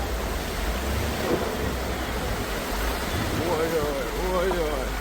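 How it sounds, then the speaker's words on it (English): Floodwater rushes down a gully in Kingston, Jamaica during Hurricane Melissa, a loud, continuous roaring wash with wind-like noise, while a voice talks faintly over it. "You can see it carrying water from the mountains out to the ocean"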